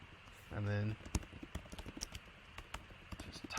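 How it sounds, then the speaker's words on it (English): Quick, irregular clicks of computer keyboard keys tap through a quiet room, preceded by a brief low tonal hum. "typing away"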